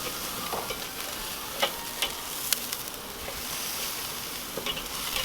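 Pork chops sizzle on a Weber kettle grill as they are flipped: a steady, close hiss of frying with a few sharp pops and clicks from handling the meat.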